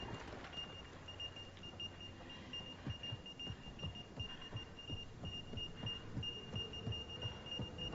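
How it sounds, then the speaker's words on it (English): Faint electronic beeping in the sci-fi video game Mass Effect: Andromeda, a thin, high tone pulsing in repeated short bursts over a low rumbling ambient hum and scattered soft thuds. "that beeping is ominous"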